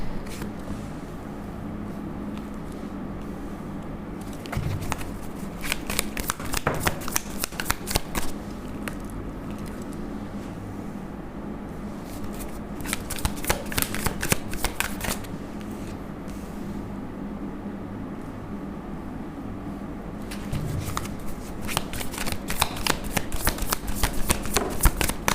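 A deck of tarot cards shuffled by hand in three separate bursts of rapid, fluttering riffles, close and fairly loud, with quieter pauses between.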